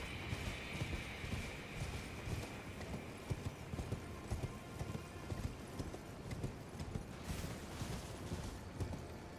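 In the video game Elden Ring, the spectral steed Torrent gallops with dense, rapid hoofbeats in a continuous rolling rhythm. The hoofbeats sit over steady game ambience and stay fairly even throughout.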